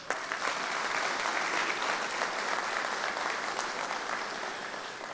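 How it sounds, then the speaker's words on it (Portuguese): A large audience at the opening ceremony of a Brazilian administration convention breaks into sustained applause, a dense, even wash of many hands clapping in a big hall, steady throughout with no speech. "peço uma salva de palmas pelo belíssimo apoio que obtivemos"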